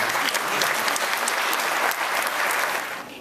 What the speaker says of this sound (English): You should all be given a round of applause for that